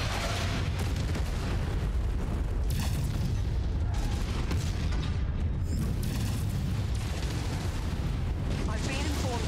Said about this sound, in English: Artillery strike, get out of there!